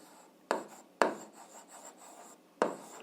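Chalk or marker writing on a board during an algebra lesson: three sharp scratchy strokes spaced irregularly, each tapering into a brief rasping drag, close and fairly quiet with no voice.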